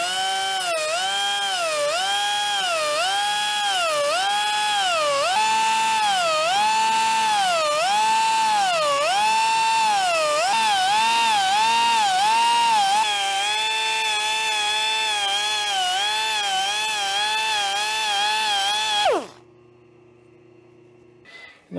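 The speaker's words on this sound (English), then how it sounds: "There's a reason why this belt sander is good." A belt sander in a metalworking shop runs loud and close with a high whining tone that rises and falls rhythmically as the workpiece is pressed, then steadies before the motor shuts off and spins down.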